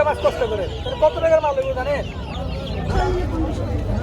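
Fancy chickens clucking at the Hemayetpur bird market, uneven clucks and squawks close by under a background of crowd chatter and talking.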